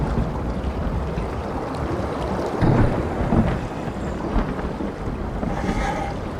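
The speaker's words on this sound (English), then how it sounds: "I made it out of the sea storm." Sea storm in the video game SOMA, a continuous rumbling wash of wind and surging water with gusty swells, no distinct thunderclaps standing out.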